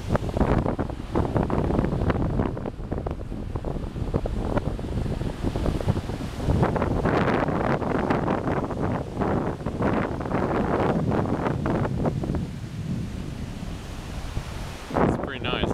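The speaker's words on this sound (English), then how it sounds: "Right now we're in Bellows Air Force Base and this is the beach of the Air Force." Steady surf and gusting wind roar on the beach at Bellows Air Force Base, loud and continuous, with breaking waves rising and falling under heavy wind buffeting on the microphone.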